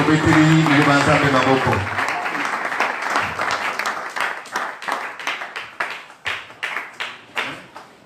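A church congregation breaks into loud applause mixed with raised voices, then settles into rhythmic group clapping that slowly thins out.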